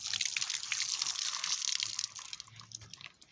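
Cut rose apple pieces are washed in water, giving a steady close splashing and trickling wash that fades slightly toward the end, with no talking.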